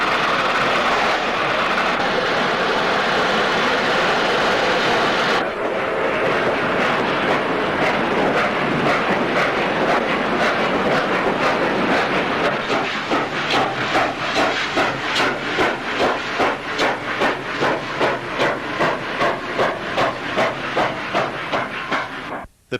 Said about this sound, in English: The last steam locomotive built by Lima is now back on the main line.